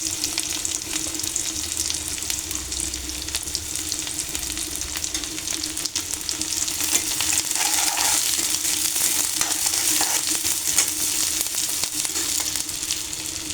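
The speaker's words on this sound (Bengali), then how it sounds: "এখন আমি পেঁয়াজগুলো দিয়ে দেব একটু ব্রাউন কালার হয়ে আসলে আমি নামিয়ে নেব এটাকে বেশি ভাজবো না" Onions fry in a kadai while they brown. A continuous hissing sizzle is heard close up with occasional faint stirring, steady throughout and fairly quiet, and no one speaks.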